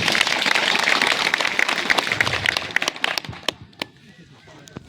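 A crowd at a traditional Padha self-governance gathering in Lohardaga claps together in a loud, dense burst that thins out into scattered, separate claps before falling quiet.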